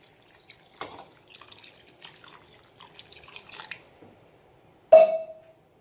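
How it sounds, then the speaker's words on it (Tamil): Water is poured into a pot of bitter gourd tamarind curry for a few seconds, an uneven soft splashing, followed after a pause by one sharp metallic clink. "ஸோ இந்த ஸ்டேஜ்லேயே நம்ம அந்த குழம்புக்கு தேவையான அளவுக்கு தண்ணியை ஆட் பண்ணிக்கலாம்."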